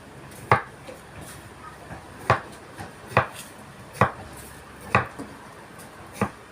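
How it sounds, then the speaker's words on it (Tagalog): Peeled food being sliced with a knife on a cutting board, six or seven distinct sharp chops spaced at irregular intervals, close and fairly crisp over a quiet room background. "Hiwain naman natin, guys."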